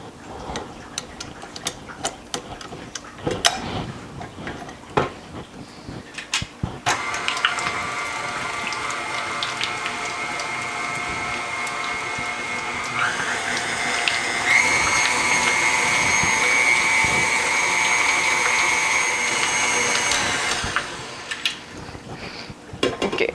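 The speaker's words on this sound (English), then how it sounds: "now I'm going to beat this butter, make it fluffy" A KitchenAid stand mixer beats softened butter in a home kitchen, a steady mechanical whir running for several seconds and rising in pitch partway through, with clinks and taps around it.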